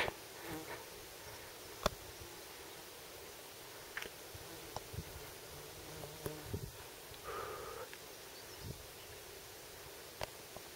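Flies swarm around a person on a mountain pass with lingering snow, their buzzing faint and intermittent against outdoor ambience, with occasional louder passes close by and no talking.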